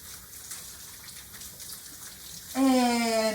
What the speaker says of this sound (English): Stick them back under the water and wash all that good soap off.